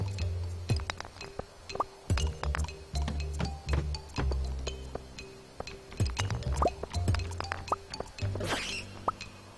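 Watering crops in a farming video game: a run of light, sharp dripping plinks and small splashy clinks at an irregular pace over a low steady hum, with no one talking.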